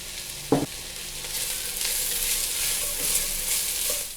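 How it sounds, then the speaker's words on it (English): Chopped vegetables frying in hot oil in a pot for red lentil soup, with a steady loud sizzle, one thump as they go in and a few light stirring knocks. "Once you've heated your oil in a pot, then add the chopped vegetables."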